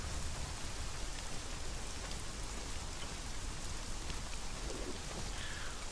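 Rain in the video game Conan Exiles pours as a dense, even patter of drops on surfaces, a constant moderate hiss with no speech over it.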